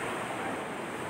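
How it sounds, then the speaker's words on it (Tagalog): Big ocean waves: a steady, dense wash of surf roar, loud and continuous, mixed with wind rushing across the microphone, with no talking. "Laki ng alon."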